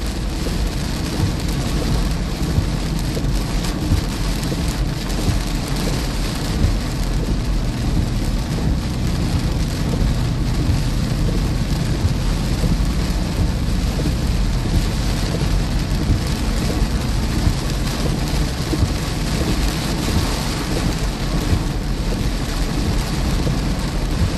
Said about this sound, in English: it seems like just some heavy rainfall right now